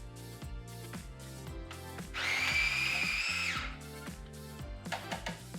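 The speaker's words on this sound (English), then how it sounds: "you can add everything to a food processor and chop everything together" A food processor chops a lentil burger mixture, a short burst of loud motor whir lasting about a second and a half over steady background music.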